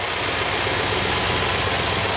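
A car engine idles steadily after its cooling system has been refilled, a constant mid-low rumble with no change in pace, running alone with no voices.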